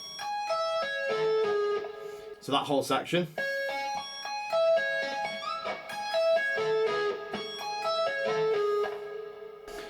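Electric guitar shred lick played with tapping, pull-offs and hammer-ons: rapid, bright, legato note runs cascading up and down, close and clear, with a short burst of spoken words partway through.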